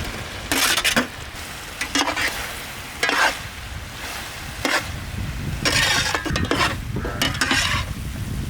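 Fried chicken pieces for a Japanese-style chicken dish are tossed in sauce in a pan, with loud bursts of scraping and clattering toss after toss over a steady crackling sizzle.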